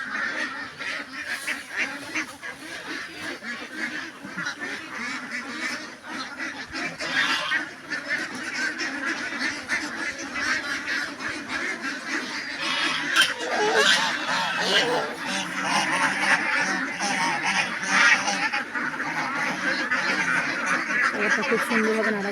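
A flock of farm ducks quacks and honks continuously as they eat a mixed feed of broken rice, maize and DCP stirred into water, a dense noisy chorus with a voice talking underneath.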